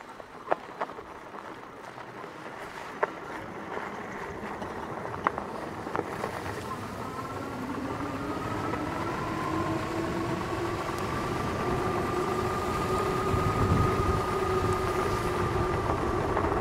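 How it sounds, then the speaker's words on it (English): An ENGWE X26 electric bike is ridden along a road, and a steady rush of wind and rolling noise fills the ride. A rising electric motor whine builds as the bike gathers speed, and no one speaks. "Still getting used to the bike."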